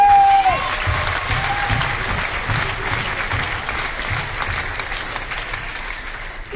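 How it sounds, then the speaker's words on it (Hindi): Audience at a motivational business event applauds a mentor named Ramkrishna Guruji, a dense sustained wash of clapping from a crowd that carries on steadily for several seconds after a brief tone at the start. "मैं रामकृष्ण गुरुजी के लिए विशेष ताली"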